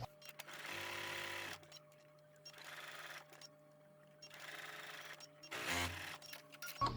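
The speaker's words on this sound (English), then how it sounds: "with a 1/4 inch seam allowance, we're going to sew all the way around that outside bit" A domestic sewing machine stitches a quarter-inch seam around the outer flap of a fabric tulip bag, running in several short bursts of fast, even whirring separated by brief pauses, close to the microphone.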